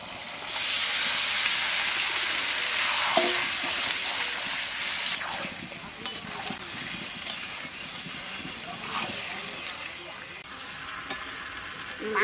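Mutton pieces going into hot oil with fried onions, a loud steady sizzle and hiss with stirring scrapes throughout, close and alone without talk.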